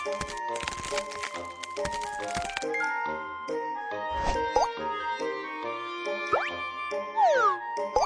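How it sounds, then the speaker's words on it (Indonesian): A disposable medical instant ice pack is shaken in quick rattling, crackling bursts, with clinks, plops and bright cartoonish effects layered over it in an animated earthquake-rescue scene. "Kocok kompres es untuk mendinginkannya"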